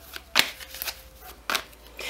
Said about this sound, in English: Let's just give a little bit of shuffling in the deck